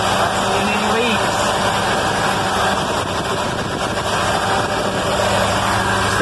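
A vehicle engine idles steadily just after being started, a close, continuous rumble with faint rattling vibration and someone talking over it.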